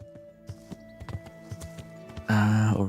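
Horse hooves clip-clop in Kingdom Come: Deliverance, a run of distinct hoof strikes at a walking pace. A loud burst of whinnying or other game sound follows at the end.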